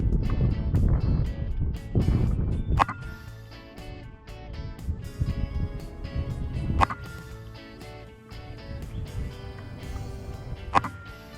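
Gusty high wind buffeting a microphone at an outdoor airgun range, coming in loud rumbling surges with lulls between, plus a few sharp knocks from targets rocking in the wind.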